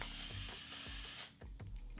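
Makeup setting spray hisses out in a steady close mist for over a second, then stops and leaves a few soft rubbing sounds.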